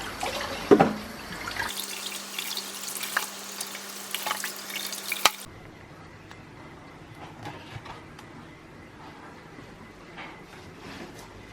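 Tap water running over fish in a sink while they are rinsed, a close splashing stream with handling sounds that stops partway, leaving quieter drips and movement.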